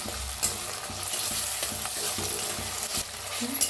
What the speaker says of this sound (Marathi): टमाटो कापून घेतलाय, ती बी घालूया, हलवून त्याला बी छान असं भाजून घेऊया।